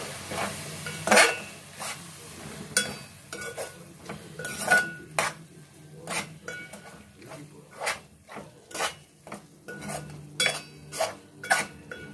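A steel pot holding egg biryani is handled with a metal utensil, making repeated ringing clanks and scrapes in an uneven rhythm, loud and close, with a faint sizzle underneath.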